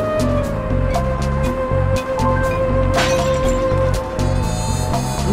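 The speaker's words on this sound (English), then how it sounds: "I forgot that you can actually hear the bottles clinking," Glass bottles clink in the video game Sly Cooper 2 as sharp, repeated taps over steady in-game music.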